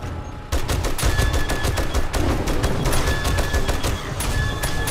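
Rapid automatic turret gunfire in the 7 Days to Die console version, a dense continuous fusillade of shots that starts abruptly after a brief lull and keeps rattling loudly to the end.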